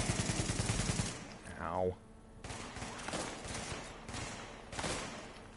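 Shotgun blasts in a video game, a dense run of loud booming shots at the start, then scattered weapon fire and a descending whistle-like tone, with a short pained voice cry.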